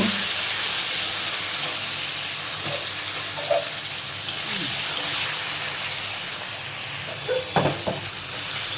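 Paneer pieces frying lightly in oil, a loud, steady hiss of sizzling close by, broken by a few soft scrapes and clinks from turning them in the pan.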